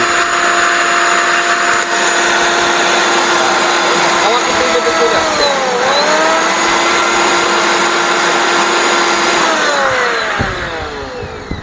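An Orpat blender motor runs at high speed with a loud, steady whirring whine whose pitch dips and recovers midway, then winds down near the end.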